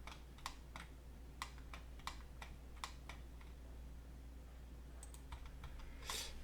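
A computer keyboard's keys and space bar click in quiet, separate taps, about a dozen irregular presses at close range with a low steady hum behind them and no talking.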